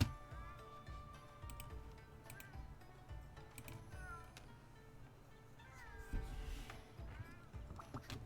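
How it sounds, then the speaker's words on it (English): Several meows from the cats in Monster Hunter Rise come and go over busy game ambience with ticking sounds. Some meows are short and some are drawn out. "I love all the cat noises."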